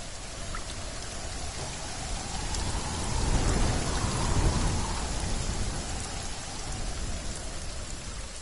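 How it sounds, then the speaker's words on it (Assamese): Heavy rain pours in the survival game The Forest, a dense continuous hiss with a deep thunder rumble swelling in the middle and slowly subsiding beneath the downpour. "বৰষুণ দিছে, পুৰা ফিল আহি গৈছে।"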